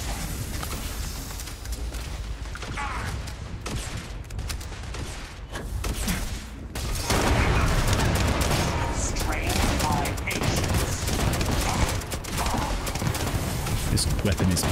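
Heavy gunfire from a powerful weapon in the video game Starfield, a loud dense fusillade of rapid shots that grows louder and fuller midway, with a voice talking over it.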